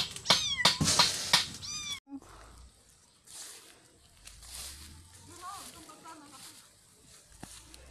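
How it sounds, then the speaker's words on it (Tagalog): A cat meows loudly a few times up close at the start, then quieter rustling and faint background noise follow. "May mga alagang pusa."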